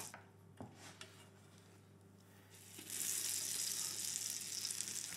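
French toast frying in butter in a pan: a steady soft sizzle, with a few light clatters of utensil against the pan early on, then a broader, louder hiss rising after a few seconds and holding steady.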